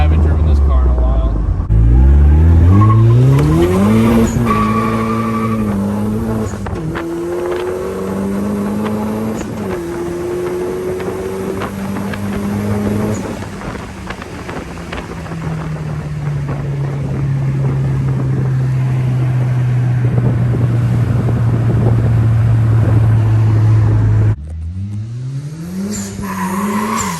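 A turbocharged Mazda Miata drifts after maintenance, its engine revving up and down in rising and falling sweeps with loud tire squeal, then a long sustained high-rev drone, all close and dominating, with a voice briefly audible.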